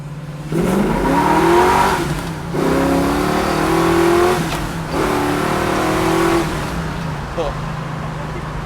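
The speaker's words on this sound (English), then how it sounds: "we'll roll into it in first" A 1968 Camaro SS on race gas with 4.10 gears accelerates hard from a roll in first gear, its engine revving loudly close by in rising surges while people talk over it.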